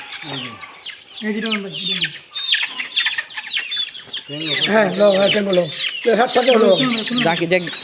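A flock of month-and-a-half-old Fayoumi chickens at a hatchery delivery clucks and squawks loudly and close, in dense overlapping bursts with brief gaps, while people talk nearby.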